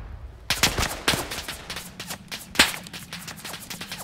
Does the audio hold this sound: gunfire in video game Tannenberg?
yes